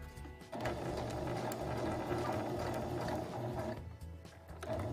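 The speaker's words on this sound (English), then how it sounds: "Drop my needle, lift, rotate, continue to sew down the very exterior edge." A sewing machine stitches down the outer edge of a cloth face mask, its needle mechanism clattering in a rapid, steady mechanical rhythm up close, stopping briefly near the end before resuming.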